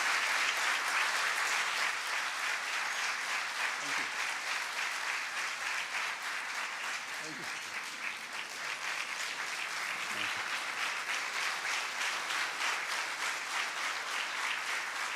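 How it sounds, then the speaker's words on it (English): A conference audience claps continuously, dense, steady applause filling the whole stretch at an even level. "I did not realize that all your claps in between you will collect into the final one"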